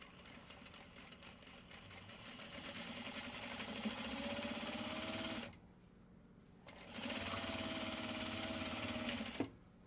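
A sewing machine stitches a mini traveler fabric sling in two fast, steady runs of whirring needle strokes, separated by a short quiet pause and ending with a faint click.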